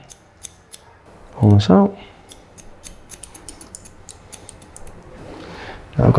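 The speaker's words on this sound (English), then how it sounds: "I'm just going to point cut into this." Scissors point-cut into a section of medium-length hair during a haircut, giving a series of quick, crisp, close-up snips scattered through the clip, with a short burst of speech in the middle and another at the end.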